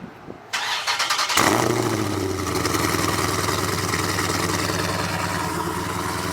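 A procharged Dodge Challenger 392 Scat Pack V8 cranks and fires up after sitting cold, a short whir giving way to a loud roar that settles into a steady, rumbling idle, close and with no talking.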